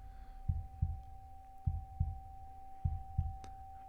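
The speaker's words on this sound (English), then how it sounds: "It's a heartbeat." Paired low heartbeat thumps repeat three times at an even pace, soft and muffled over a steady electronic hum, with no voices.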